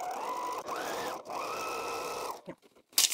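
Sewing machine stitching fabric for a quilt block, a steady fast whirring run that pauses briefly twice, then stops with a few quieter clicks and a short rustle at the end.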